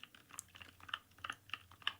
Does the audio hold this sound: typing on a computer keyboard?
yes